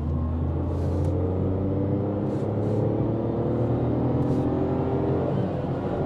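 A Tata Tigor running on CNG accelerates hard with wheel spin, giving a steady, close engine rumble and whir that holds at a constant level without pause, with no talking.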